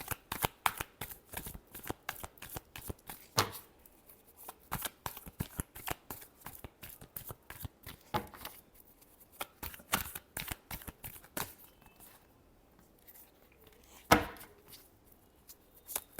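Tarot cards are shuffled in rapid crisp riffles, close and clear, in several bursts separated by short pauses, with one sharper snap near the end.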